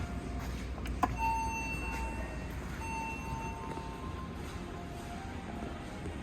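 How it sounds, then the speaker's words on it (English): Bell chiming inside a brand-new Schumacher hydraulic elevator at a Menards store in Germantown, Wisconsin, one short clear ding over the steady hum of the running car. "Here back at 2, we'll ring the bell."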